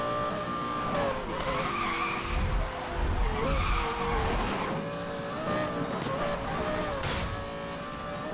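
A car drifting in the video game Need for Speed Most Wanted (2012), its tires squealing in a long, loud, wavering skid over a steady engine roar, no voices.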